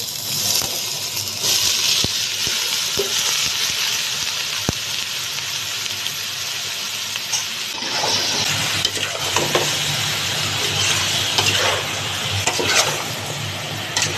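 Meat sizzles in a hot pan while cooking papaitan, a steady hiss of frying with occasional stirring scrapes and clinks, close and fairly loud throughout.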